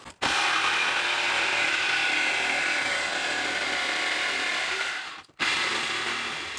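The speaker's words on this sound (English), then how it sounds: "I'm going to cut this now because I need this hole bigger" A power tool saws through the bed of a 1985 Jeep CJ7 to enlarge and square off a hole, giving a loud, steady, harsh cutting roar for about five seconds. It cuts out briefly, then resumes.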